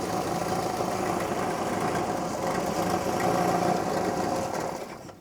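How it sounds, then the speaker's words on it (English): A classic MG Midget engine idling lumpily, a steady, moderately quiet mechanical rumble with uneven, slightly knocking pulses that tails off at the end. "I think that's running a little bit lumpy now."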